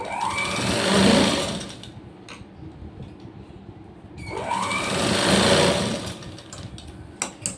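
An old sewing machine stitches a blouse in two loud bursts of rapid whirring, each building up and then easing off, separated by quiet pauses with light clicks.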